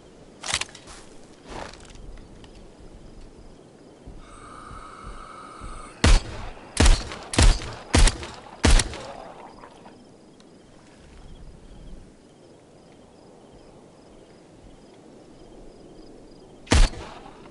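Gunfire in the Superhot VR video game: a few sharp, isolated shots early, then a quick cluster of loud cracks over a few seconds, a long quiet stretch, and one final shot near the end.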